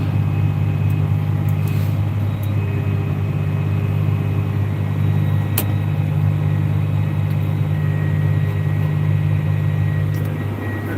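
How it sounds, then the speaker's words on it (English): A truck rolls past with a steady, loud low engine rumble and drone throughout, with no voices. "There goes Phil, our other truck."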